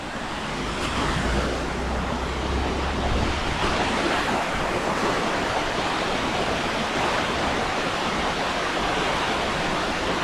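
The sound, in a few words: waterfall stream flowing water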